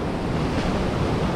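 Ocean waves wash steadily onto a beach at a Davao Oriental resort in Cateel, a loud continuous surf roar mixed with wind buffeting the microphone.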